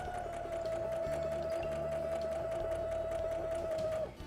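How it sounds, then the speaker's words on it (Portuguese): A sewing machine stitches a fabric pacifier-holder bib with a steady, fast rhythmic chatter and a faint motor whine, close and continuous for about four seconds before stopping. "Faz a costura bem por cima de onde você passou o molde, tá?"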